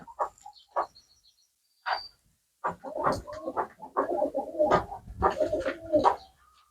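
Several soft pigeon coos recur through the clip, close by in a dovecote in a field, amid rustling and low background movement noises.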